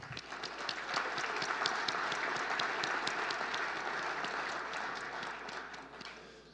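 Audience applause at a Canadian football league awards ceremony, a fairly distant, even roll of many hands with some individual claps standing out, fading slightly toward the end.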